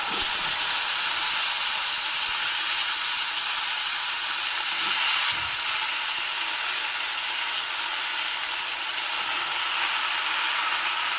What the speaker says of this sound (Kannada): ಆ ಬದನೆಕಾಯಿ ತೊಗೊಂಡಿದ್ದೀನಿ ನಾನು ಅದನ್ನೀಗ ಇದಕ್ಕೆ ಹಾಕ್ತಾ ಇದ್ದೀನಿ ಒಗ್ಗರಣೆಗೆ